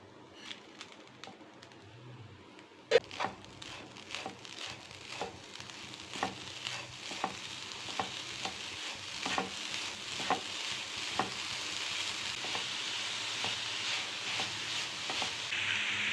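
Grated coconut and jaggery are stirred and fried in a pan for a Tirunelveli-style kolukattai, with a steady sizzle that builds and repeated scraping strokes of a spoon close by, while birds coo faintly in the background.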